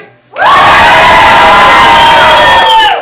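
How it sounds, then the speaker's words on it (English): A loud theater audience erupts at once into sustained yelling, shouting and whistling, holding at full volume for a few seconds before easing slightly. "So some whistling, good or bad, and yelling and shouting."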